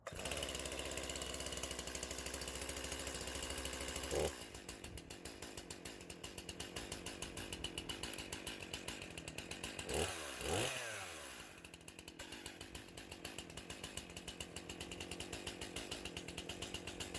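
A Stihl MS 261 C chainsaw runs nearby, buzzing and rattling at a steady idle throughout. It revs briefly around the middle, then drops back, with no talking.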